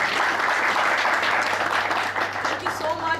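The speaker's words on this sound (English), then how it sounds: "So please lend a round of applause for her." An audience after a session gives a steady round of applause, a continuous dense clapping with voices talking faintly underneath.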